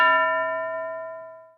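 A bell struck once rings out loud and clear, its bright metallic tone sustaining and slowly fading over about a second and a half, alone with no talk.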